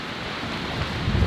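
Thunderstorm in the Canadian Rockies forest, with steady rain and wind hissing loudly and a low rumble swelling toward the end, heard close with no voices.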